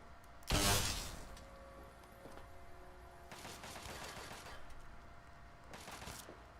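Gunfire from Harkness rings out in Fallout 3, starting with a loud, sharp close burst and followed by fainter, rattling volleys of shots further off, with quiet gaps between them.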